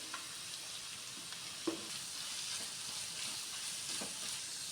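Onion and carrot sautéing in an oil-filled pan for veg noodles, a steady close sizzle with occasional stirring scrapes and taps, no talking.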